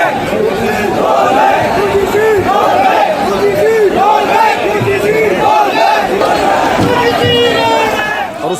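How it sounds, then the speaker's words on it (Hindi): A protest crowd chants slogans at Jantar Mantar during an anti-reservation demonstration against UGC rules. Many voices shout loud, rhythmic, repeated calls that rise and fall in waves, close and continuous throughout. "और उसके बाद फिर नारेबाजी शुरू हुई।"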